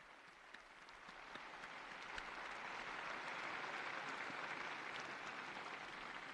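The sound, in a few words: applause for the new blessed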